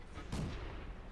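A tank gun firing in World of Tanks, a single muffled boom with a short rumbling decay.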